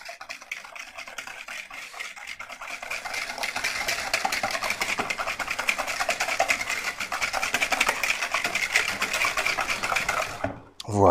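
Sugar and vanilla sugar are beaten together in a bowl for a chocolate courgette cake batter, giving a steady, fast whirring buzz like an electric mixer that runs for about ten seconds and then stops abruptly.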